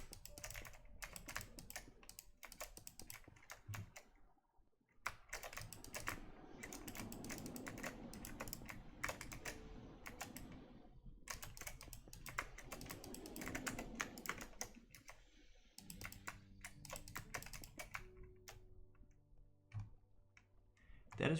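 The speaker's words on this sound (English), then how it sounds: "I wonder what my keyboard sounds like on stream" Fast, steady clicking of computer keyboard keys runs continuously for about twenty seconds, pausing briefly near the start. Faint tonal game music enters toward the end.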